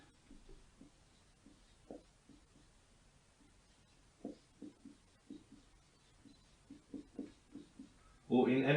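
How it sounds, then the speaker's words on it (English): A marker is written on a board in short, soft, irregular strokes and taps heard close in a quiet room, ending in a brief louder rustle. "Now I'll write on the board."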